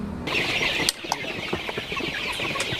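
Chickens crowd together on a poultry farm, loading into a vehicle, with wings flapping in a steady rustling mass and occasional sharp clucks and squawks on top, all at moderate loudness with no talk.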